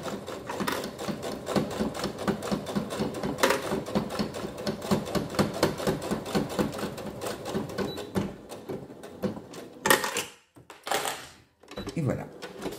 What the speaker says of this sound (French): Donc, vous faites une petite surpiqûre tout le long. Point avant, point arrière.